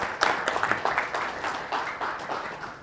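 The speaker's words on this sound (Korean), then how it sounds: "박수로 맞이해 주시죠." Scattered audience clapping at a water forum session as a professor is welcomed to the stage, a moderate, uneven patter of hands that thins and swells over a few seconds.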